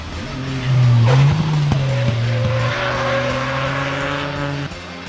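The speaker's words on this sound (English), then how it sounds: "Kunal Kashyap from Arka Motorsports, who were driving their new Polo for the first time in the South India Rally" A Volkswagen Polo rally car competing in the South India Rally roars loudly past, its engine note climbing and holding steady with tire squeal, then fading slightly toward the end.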